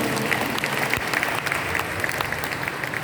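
A congregation at a Friday evening healing service claps steadily, a moderately loud wash of applause with scattered sharper hand claps throughout.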